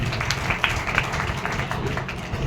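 Loud applause from an audience at an RCM product seminar, a dense, steady patter of many hands lasting throughout with a few sharper claps standing out.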